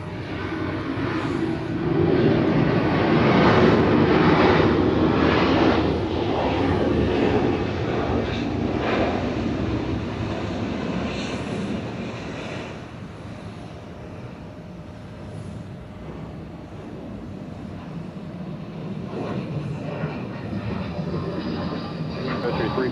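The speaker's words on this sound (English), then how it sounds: "We have a Sun Country 737 coming in from Minneapolis, flight 355 from Sun Country World Headquarters" A Sun Country Boeing 737 from Minneapolis lands at Atlanta airport with a steady jet roar that swells and slowly fades, mixed with broad outdoor rumble and occasional voices.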